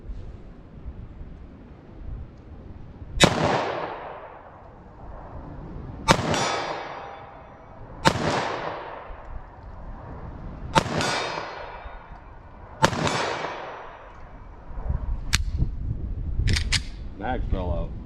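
A short-barrel .40 S&W pistol fires FMJ rounds at a steel target outdoors. About seven sharp, close reports come at uneven intervals, each followed by a ringing metallic decay, with a quick pair near the end.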